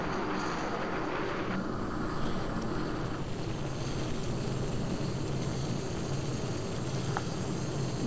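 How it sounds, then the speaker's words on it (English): Jet aircraft in flight in Battlefield 3, a steady loud broadband engine roar with a rushing, somewhat distorted hiss that continues unbroken throughout. "The sound of the jet might be a bit distorted because the recording is not recording so well"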